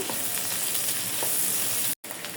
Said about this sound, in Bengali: পেঁয়াজ দিয়ে দেব পেঁয়াজ দিয়ে একটু লাল করে নেব